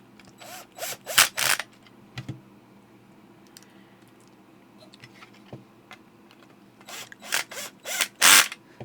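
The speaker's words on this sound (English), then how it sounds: "if you're using this drill, this is a Makita 20-volt" Makita 20-volt cordless drill driving screws during a repair of a 3M drive-thru wireless headset battery charger, short loud whirring bursts in two clusters separated by a quiet gap with small clicks.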